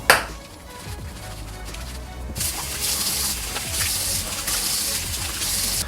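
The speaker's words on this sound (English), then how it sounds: "So I'm going to add some water onto my face first." Water splashes onto a face before cleansing, close and wet, continuing steadily for several seconds after a brief sharp start.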